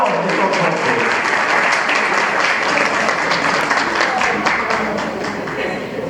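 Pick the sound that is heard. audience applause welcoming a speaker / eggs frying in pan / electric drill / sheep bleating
audience applause welcoming a speaker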